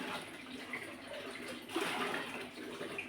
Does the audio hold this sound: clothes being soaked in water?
yes